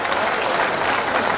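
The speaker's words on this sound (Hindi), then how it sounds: "एक बार बजाओ जोरदार तालियां इन दोनों भाइयों के लिए।" Dense, loud applause from a large audience fills the moment as a steady roar of many hands clapping together, with no gaps and faint crowd noise mixed in.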